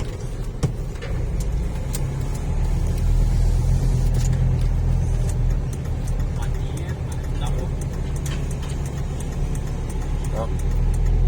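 A car engine holds a steady, loud, mid-pitched drone as the driver presses the accelerator, recorded from inside the cabin with a continuous rumble and a few faint clicks.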